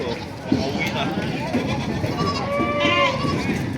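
Goats bleat now and then amid a crowded, noisy goat market in Padre Garcia, Batangas, with lots of people talking over them.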